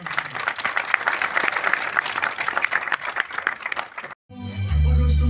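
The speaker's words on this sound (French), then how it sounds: "Donc je vous demande d'applaudir toutes les mamans." An audience at a film premiere in a cinema claps for mothers, with steady dense applause for about four seconds. It cuts off abruptly, and a low musical tone starts right after.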